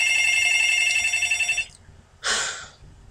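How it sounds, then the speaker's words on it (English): A telephone bell rings steadily for about a second and a half, a bright trilling tone close by, then stops; a short sharp breath or rustle follows. "And of course the phone wants to ring."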